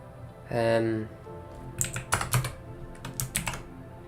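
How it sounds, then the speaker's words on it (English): Computer keyboard typing in bursts of quick, irregular clacks, fairly close, preceded by a brief hum-like voice sound. "Hopefully the sound of my keyboard compensates."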